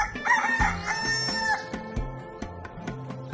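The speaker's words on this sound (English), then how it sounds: "The rooster." A rooster on a farm crows a loud, drawn-out cock-a-doodle-doo near the start, followed by quieter clucks and knocking sounds.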